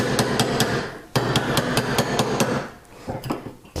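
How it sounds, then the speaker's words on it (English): A nylon hammer taps a metal ring on a steel ring mandrel while carving a ring in jewelry making, sounding as a quick series of close, sharp knocks in an uneven rhythm with brief gaps. "We're going to use the nylon hammer, or if you've got a little dead blow hammer,"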